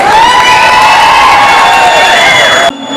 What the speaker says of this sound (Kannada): ಜಾನ್ವಿ ಮ್ಯಾಮ್ ಅವ್ರಿಗೆ ಒಂದು ಜೋಸ್ ಹೊಸ ಜೋರಕ್ಕೆ ಚಪ್ಪಾಳೆ